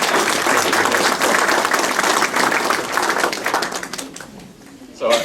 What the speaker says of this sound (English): give yourself a round of applause for all your contributions